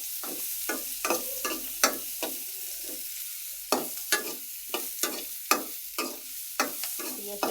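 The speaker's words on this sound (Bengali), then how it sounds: "আমি আলুটা তেলে ভেজে নেবো শসা সহকারে" Boiled potatoes with cucumber fry in oil, with a quiet steady sizzle under a run of close, sharp scraping and tapping strokes from stirring in the pan, heard alone without speech.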